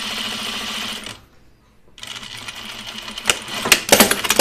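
A sewing machine runs steadily while stitching a Lucerne blouse, a close, even mechanical whir that stops briefly and then resumes, ending with sharper clicks and knocks.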